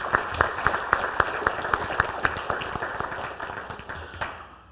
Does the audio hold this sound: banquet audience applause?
yes